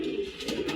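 A male pigeon at a loft gives a short, close, soft cooing call, a couple of throaty pulses in under a second.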